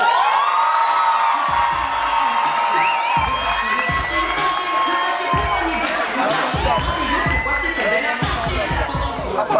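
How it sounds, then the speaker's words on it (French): A crowd at a hip-hop and rap awards ceremony cheers, whoops and shouts loudly and continuously, with high excited voices and music-like tones carrying through the roar. "je vous demande d'applaudir très très fort"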